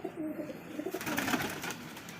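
A high-flying pigeon coos softly and close by, a couple of low murmuring calls over quiet background noise.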